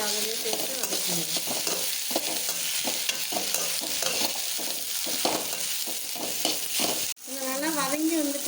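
Ridge gourd sautéing in a pan for chutney, with a steady sizzle and repeated stirring scrapes throughout, fairly close, a voice briefly heard near the end.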